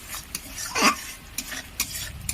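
Thick spice paste stirred and fried in a pan for Bengali rui posto, with scraping spoon strokes and soft sizzling coming in a few separate bursts, close and fairly quiet, no talking.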